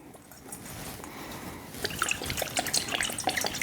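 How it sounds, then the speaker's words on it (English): Worcestershire sauce pours out of a bottle in faint liquid glugs and trickles, irregular splashy bursts that grow busier toward the end. "Worcestershire sauce doesn't come out of the bottle very quick."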